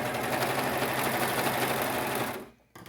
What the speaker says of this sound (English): if you have a serger, you can use a serger like I'm going to do